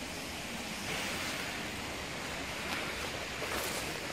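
Steady rushing water from a stream flowing near Chapơr waterfall in Ninh Thuận, a broad continuous wash heard close and fairly loud with no talking.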